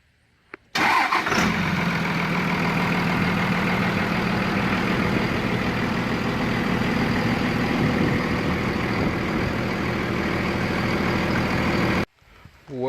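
A second-generation truck engine cranks and fires after a power steering pump seal repair, then settles into a loud, steady, rumbling idle close by for about eleven seconds before cutting off abruptly.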